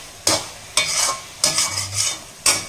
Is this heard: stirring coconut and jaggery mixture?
yes